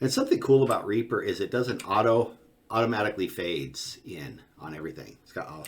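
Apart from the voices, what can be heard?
None of the usual background noises is heard.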